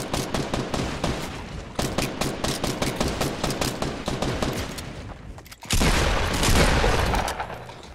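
Rapid gunfire in the Fortnite video game, a string of evenly spaced shots for several seconds, a short break, then a dense, louder burst of fire with booming impacts.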